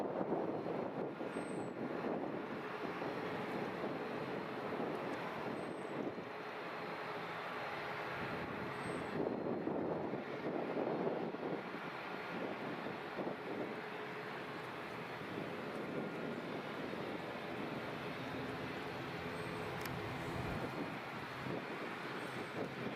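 Distant ATR turboprop airliner at Edinburgh airport, a steady broadband engine rumble and whine that holds evenly throughout, with light wind in the background.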